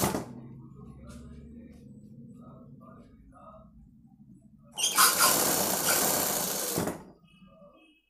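A sewing machine stitches a crop top blouse in a tailoring setup, running in one loud continuous burst of about two seconds after a stretch of quieter talk, then stopping as the voice resumes.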